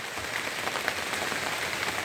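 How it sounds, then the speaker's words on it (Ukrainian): Steady rain falls outside, a soft, even patter of drops on surfaces that holds at a low, constant level with no voices. "Дощ трішки перепортив нам плани."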